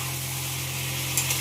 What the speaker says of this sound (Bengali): তো এখন সুন্দর করে কষানো হচ্ছে।